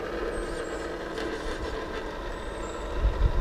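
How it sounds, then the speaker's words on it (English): A truck rolls along a small road, a steady broadband engine and tire rumble held throughout at moderate distance, swelling slightly louder at the end as it nears. "Wait till this truck come down."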